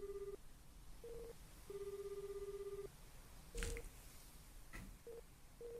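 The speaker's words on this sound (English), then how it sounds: "Oh, it's a phone." A phone rings in the Astlibra Revision video game: a steady electronic tone sounds in repeated bursts of varying length. The ring is fairly faint over a low background hum, with a brief louder clatter partway through.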